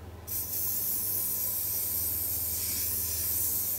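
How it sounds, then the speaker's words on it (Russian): Impregnation oil sprays onto a foam air filter sponge from an ATV150 quad bike, a close, steady aerosol hiss that starts abruptly and continues unbroken over a faint low hum. "И видно, куда распыляется, где больше, где меньше."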